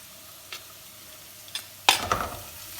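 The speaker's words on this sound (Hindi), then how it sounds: "थोड़ा सा ही इसको जो है फ्राई करेंगे हल्का सा।" Chopped green chilies fry lightly in a pan for noodles, a faint steady sizzle with a few soft stirring scrapes and clicks, louder utensil movement near the end.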